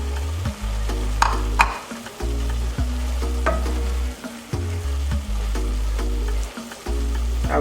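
Shrimp and Indomie noodles with vegetables fry in a pan under repeated stirring, with a loud, steady sizzle broken by short scraping strokes and brief gaps, with no talking.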